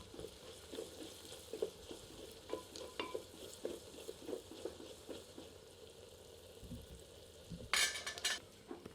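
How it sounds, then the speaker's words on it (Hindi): Onions fry and are stirred over medium heat in a clay pot for traditional Odia chicken jholo, a soft steady sizzle with frequent spoon scrapes and a brief louder clatter near the end. "प्याज को मध्यम आंच पर तब तक भूनते हैं जब तक कि प्याज हल्के सुनहरे रंग में"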